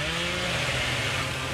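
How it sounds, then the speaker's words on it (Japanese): A chainsaw in the horror game Dead by Daylight revs in a loud, continuous buzzing roar that holds steady throughout, close and harsh, with no talking. "しかも引っかかった。 チェーンソー不発。"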